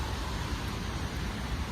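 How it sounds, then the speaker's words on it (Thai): Steady rain hisses evenly all around, a dense, constant patter with no voices. "ทุกคนฝนตก"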